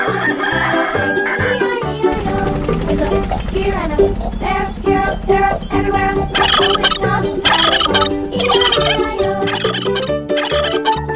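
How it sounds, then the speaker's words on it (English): Cartoon turkey gobbling in a children's farm-animal learning song, repeated gobbles and fowl calls ringing out loudly over bouncy music with a sung voice. "Turkey."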